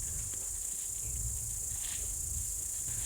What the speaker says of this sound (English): this meadow is just alive with noise from the crickets